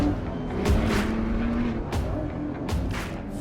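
Ford GT engine on a tight race track, a sustained low growl rising in pitch with sharp bursts and pops as the throttle is punched, close and loud over wind rush.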